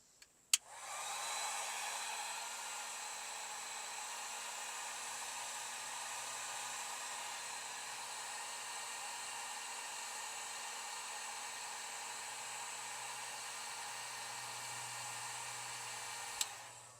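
A heat gun blows steadily for about sixteen seconds to shrink heat-shrink tubing over a fuel gauge wire, starting with a click and a whoosh and holding an even, close roar until it shuts off.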